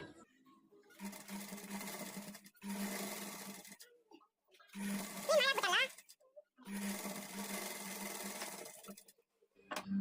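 A sewing machine stitching blouse fabric with a quarter-inch margin runs in several sustained bursts of close, steady whirring with pauses between, and someone talks briefly in the middle gap.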